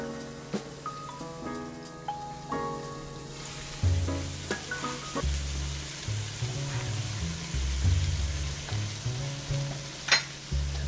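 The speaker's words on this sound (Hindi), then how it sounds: "अनियन डालने के बाद 2 मिनट तक इसको कवर करके पका लेंगे ताकि चिकन भी सॉफ्ट हो जाए" Chicken and onion cooking in a pan for spaghetti squash noodles: a steady, close sizzle and crackle under clinking and scraping utensils, growing denser and louder partway through.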